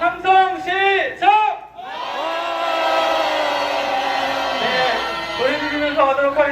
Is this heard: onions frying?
no